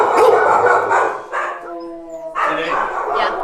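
A rescued stray pit bull type dog, found running loose on I-94 in Detroit, gives several close, loud, rough barks in bursts, with a short quiet gap in the middle, as people talk nearby.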